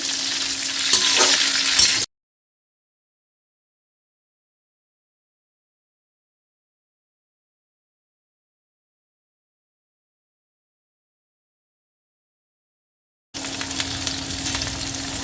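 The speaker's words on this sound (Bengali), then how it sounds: "কাঁচা লঙ্কাগুলোকে দিয়ে সাঁতলে নেবো একটু" Green chilies sauté in a pan for a chilli tamarind recipe, giving a bright, hissing sizzle for about two seconds, then a long silence before the frying resumes near the end.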